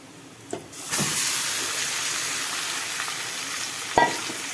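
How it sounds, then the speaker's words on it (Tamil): Chicken pieces drop into a hot pan of softened onions for chicken fry, setting off a loud, steady sizzle. A couple of short clatters mark the start, and another sharp knock comes near the end. "இப்போ நம்ம இதில் இந்த சிக்கனை போட்டுருவோம்."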